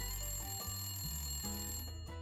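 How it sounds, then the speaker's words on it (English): A landline telephone rings downstairs in a home, its electronic bell tones repeating in a steady pattern, heard faintly from a distance with no talk over it. "that's the downstairs phone"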